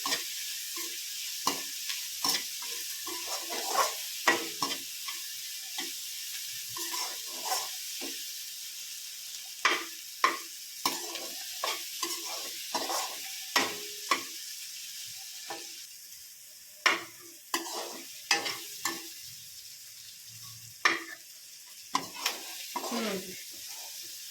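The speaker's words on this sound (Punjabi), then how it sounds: "ਇੱਧਰ ਬਸ ਤੜਕਾ ਭੁੰਨਿਆ ਗਿਆ" Spiced tempering for a home-cooked kadhi sizzles steadily in a pan while a ladle stirs and scrapes, giving a busy run of sharp clinks and scrapes over a continuous hiss.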